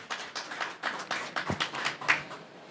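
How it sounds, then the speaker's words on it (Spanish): Rhythmic clapping from a crowd, steady and moderately loud, with individual claps standing out throughout the short burst of applause. "Les pido que podamos recibirlo con un fuerte aplauso."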